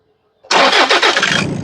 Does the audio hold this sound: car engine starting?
yes